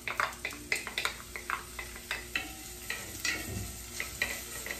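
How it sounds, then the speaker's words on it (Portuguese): Diced onion fries in olive oil in a pan on the stove, giving a steady sizzle broken by regular scraping strokes of a utensil stirring, close and alone without talk. "Panela no fogo e vamos começar pela cebola."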